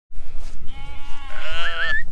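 A sheep bleats loudly and close by in a livestock handling system, one long wavering cry over a low rumble of pen noise and shuffling.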